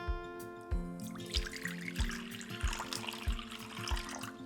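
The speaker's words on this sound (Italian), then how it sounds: "in una ciotola capiente verso l'acqua" Water is poured into a large bowl while preparing batter for homemade South Tyrolean spätzle, a steady splashing stream heard under background music.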